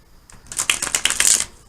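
A deck of cards is shuffled close up in one quick riffle, a dense fluttering burst of crisp card snaps lasting about a second.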